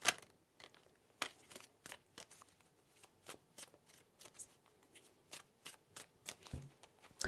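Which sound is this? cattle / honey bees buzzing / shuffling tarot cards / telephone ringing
shuffling tarot cards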